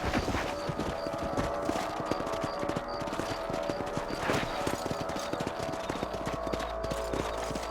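Horses' hooves clip-clop steadily as riders move across a ranch property in the Red Dead Redemption video game, with layered background game sounds and no clear talk.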